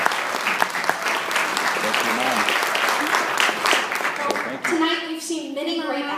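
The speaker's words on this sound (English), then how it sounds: "can we give them, the parents, just a round of applause" Applause for parents at a 2014 school music event in Holmen, Wisconsin, a full room clapping steadily and loudly, then thinning near the end as a few voices and cheers rise through the fading claps.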